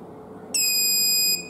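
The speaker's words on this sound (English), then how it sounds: "So once the sterilization is done, the buzzer is on." A helmet UV sterilization box sounds its buzzer: one shrill, steady electronic beep lasting under a second, loud and close over a quiet room.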